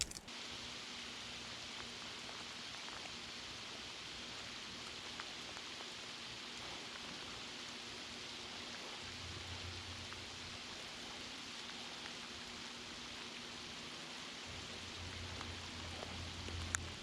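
Steady rain falls at a mountain campsite in Colorado, a soft, even hiss of drops that continues unbroken throughout, with no voices over it.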